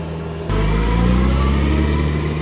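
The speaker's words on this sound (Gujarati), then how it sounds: "ઘડી સારું છે આ ટ્રેક્ટર વાળા આવે છે ને ગામના રોલ વાળા ભાઈ" A village tractor arrives on a newly built road, its engine starting up abruptly and then holding a loud, steady mid-pitched rumble close by.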